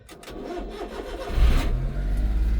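A Daihatsu five-speed, two-wheel-drive vehicle with a weak battery cranks sluggishly for over a second before its engine catches, then settles into a steady, close, low idle rumble.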